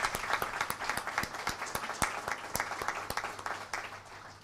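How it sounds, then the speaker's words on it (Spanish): A panel audience at a Catholic public-life congress applauds, sustained, fairly loud mixed clapping with distinct nearby hand claps over the crowd's wash for the whole stretch. "Otro aplauso, por favor"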